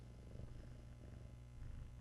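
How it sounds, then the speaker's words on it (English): Soft, steady purring from a cat held close, a continuous low rumble that pulses gently with each breath and stays quiet throughout. "So I listened to this cat purr."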